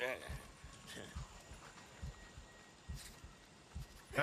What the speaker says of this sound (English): can actually hear his heartbeat